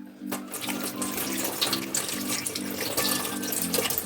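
Tap water runs steadily over freshly cleaned river fish in a sink, a continuous splashing rinse with a low hum beneath it, close and moderately loud throughout.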